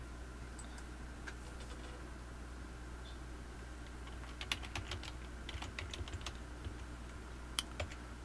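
Keys on a 2011 laptop keyboard are tapped to enter a username and password during an MX Linux 23.4 install: faint, sparse clicks over a steady low hum, becoming a quick burst of several taps later.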